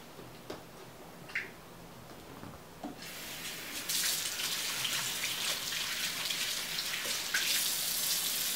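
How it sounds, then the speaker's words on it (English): Tap water runs into a sink as hands are washed before cooking, with a steady hiss that grows louder partway through. A few faint clicks and knocks sound underneath. "So what we're first going to do is wash our hands."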